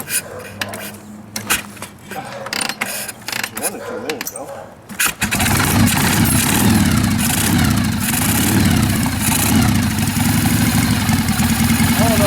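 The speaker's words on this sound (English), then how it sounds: "Not bad for the first time starting off the motorbike." A 1948 Harley-Davidson FL Panhead motorcycle catches after kick-start attempts, preceded by scattered clanks and metallic handling noises, then settles into a loud, steady idle close by.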